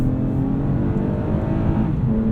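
A 2020 Toyota Camry TRD V6 accelerates under steady, loud engine drone from inside the cabin, the pitch rising with a brief dip as the transmission shifts, with no talking.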